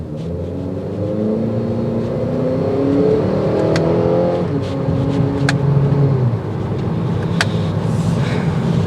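A 2022 Acura ILX pulls away from a stop on a test drive, its engine note rising steadily through the gears as a close, smooth rumble, with small ticks inside the cabin and no talk.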